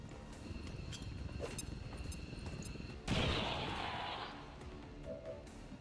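A grenade detonates in XCOM 2, a sudden loud blast midway with a broad noisy roar that decays over about a second, set against a busy game soundscape.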